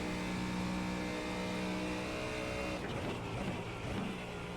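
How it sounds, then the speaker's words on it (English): A Mustang GT3 race car roars at Monza in the iRacing simulator, a loud sustained engine drone with a steady high whine that shifts and breaks up toward the end, other cars mixed in. "being led by the amazing start of Scott Kessel, is now being challenged by a pair of McLarens"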